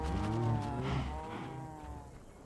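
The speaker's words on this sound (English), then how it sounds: "Oh, there's the cows." Cows in Minecraft low out a couple of drawn-out moos in the blocky farm game, clear and close with no talking over them.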